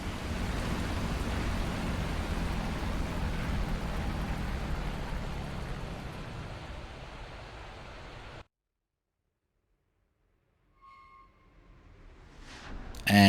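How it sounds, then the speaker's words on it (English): A P-51 fighter's piston engine in DCS World stalling out: a steady, noisy roar that gradually weakens, then cuts off abruptly into silence, followed by faint low sounds returning. "here's the sound of the P-51 in DCS World as the engine stalls out"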